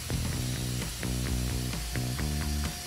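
Router fitted with a Woodpeckers multi-function router base cutting plywood, a steady whine with repeated rhythmic tonal pulses as the bit moves through the sheet, close and moderately loud, no talking.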